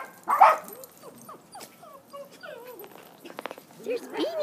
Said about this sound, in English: there's a dog digging in the corner